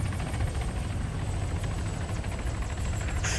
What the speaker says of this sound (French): Hélico rebelle.